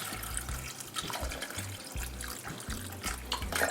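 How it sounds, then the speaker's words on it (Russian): Cold water pouring steadily from a tap into a pot of cut potatoes, a continuous splashing rush close by with a few dripping notes. "Заливаю чистой холодной водой."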